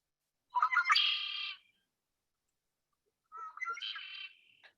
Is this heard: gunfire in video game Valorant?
no